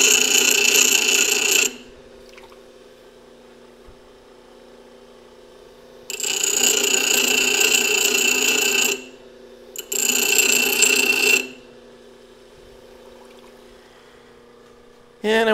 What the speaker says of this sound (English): Just grinding it just like I would any old ugly piece of steel at this point.